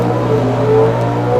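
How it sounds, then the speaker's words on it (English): A drag race car with a small-block engine, door car class, runs loud and close with a steady, strained engine drone through the brief moment. "You'll hear the RPMs come up."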